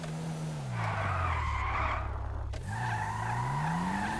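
Car accelerating and skidding in GTA V, with a steady engine drone rising and falling in pitch under a loud, sustained tire squeal that briefly breaks off and then resumes; no talking.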